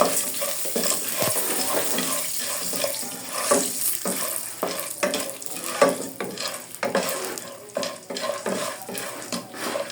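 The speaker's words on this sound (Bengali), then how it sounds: "বাকি পপকর্নগুলো দিয়ে দিব এখন আমি একটু দিব" Popcorn kernels fry in a pan while being stirred, giving repeated scraping strokes in an uneven rhythm over a steady sizzle, close and fairly loud, with no talking.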